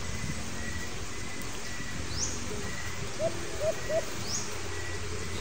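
A pigeon coos in three soft, low notes in quick succession at a moderate distance, over a steady outdoor background with a couple of faint higher chirps.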